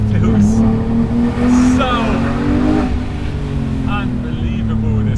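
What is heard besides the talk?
Porsche 911 GT3 Touring engine revving at high revs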